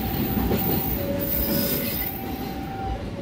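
Bengawan passenger train bound for Jakarta, hauled by locomotive 8307 'Bader', rolls past at a station with steady loud rumble and sustained high wheel squeal, continuous and close throughout.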